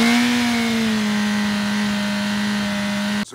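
A BMW M1000RR motorcycle fitted with a very loud aftermarket exhaust idles and revs up close, a steady droning engine note that rises slightly before cutting off sharply near the end.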